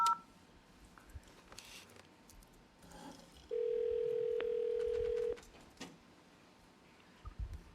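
A telephone tone on speakerphone, one steady tone lasting about two seconds amid a quiet meeting room, with faint shuffling and a short beep before and after.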